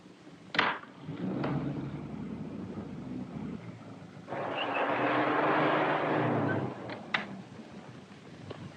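A car in a 1937 mystery radio drama drives off as a sound effect, with a thump, a steady engine drone, a louder surge of motor roar in the middle, and sharp knocks at either end.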